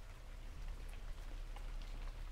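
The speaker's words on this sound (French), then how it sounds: "le bruit des petites gouttes d'eau" Soft, steady patter of small raindrops falling on a surface, quiet and close, with a low background hum.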